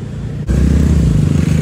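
Motorcycles and other road traffic rumble past at close range after a brief lull, a loud continuous engine drone with no talking.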